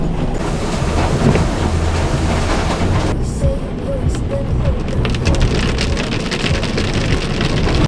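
Automatic car wash rollers scrub a car with a loud, steady, broadband swishing and spraying roar that continues throughout, its texture shifting slightly partway through.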